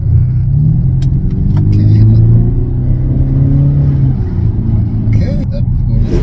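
A 2015 Audi SQ5 3.0 BiTDI diesel with a torque converter gearbox launches hard, its engine rumbling and rising in pitch as it pulls, loud from inside the cabin, with a voice talking over it.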